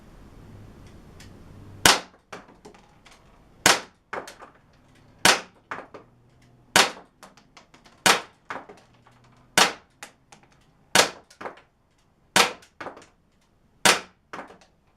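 Ten sharp, snappy pops from a Crosman C41 CO2 air pistol fired from a bag rest at 15 feet on a fresh CO2 cartridge, spaced evenly about 1.5 seconds apart, each crisp and close with quiet pauses between.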